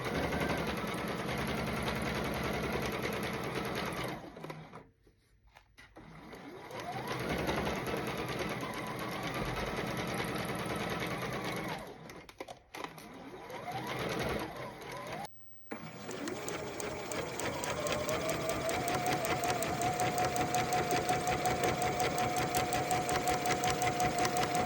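A sewing machine stitches a jumpsuit seam in steady, loud continuous runs, pausing briefly twice and again near the midpoint before resuming its fast mechanical whir.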